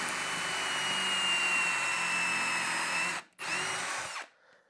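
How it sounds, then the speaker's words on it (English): A power drill drilling a pocket hole in wood whines loudly and steadily, pauses for a split second, runs again briefly, then winds down to silence. "now you can just drill your pocket hole"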